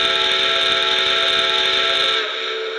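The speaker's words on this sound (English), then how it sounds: "Whistle steam." Steam whistle of a Milwaukee Road 4-6-0 Ten Wheeler locomotive in a train simulator game, a loud, sustained shrill blast with hissing overtones that cuts off abruptly near the end.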